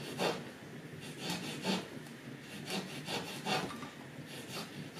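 A polish-coated old shoelace is rubbed back and forth across a piece of jewelry, giving soft, quick, rhythmic scratchy strokes at close range with no talking.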